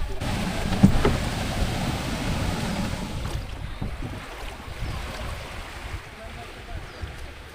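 Waves and wind wash over a low boat engine hum outdoors near Sila Island, Northern Samar, Philippines, with a faint knock near the start and a soft, steady noisy backdrop.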